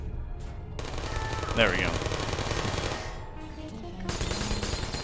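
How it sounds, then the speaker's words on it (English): Automated turret gunfire rattles continuously in Portal, a dense mid-level burst of shots running under someone talking over the game. "Guys, you can't be on the side of the turrets. They're trying to shoot me right now."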